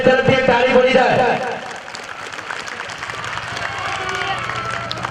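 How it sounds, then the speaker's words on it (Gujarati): Audience applause for Jayeshbhai at a Patel Samaj opening event, a dense crowd clapping loudly at first and then thinning to a softer, steadier patter with a murmur beneath. "જયેશભાઈ તરફથી એક તાળી પડી જાય."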